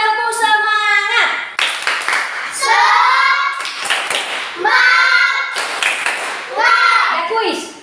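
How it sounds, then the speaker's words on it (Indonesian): Schoolchildren doing a rhythmic spirit clap in a classroom, bursts of group hand claps in patterned beats mixed with loud chanting voices, close and lively. "anak-anak tepuk semangat"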